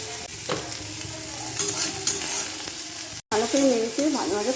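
Cumin, chili and turmeric fry in hot oil with a loud continuous sizzle and crackle, stirred with scraping strokes; a brief cut is followed by a voice speaking over the frying.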